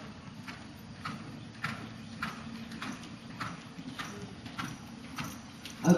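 A gentle horse walks at a steady pace, hooves clip-clopping in an even rhythm of soft, close hits over a quiet outdoor background.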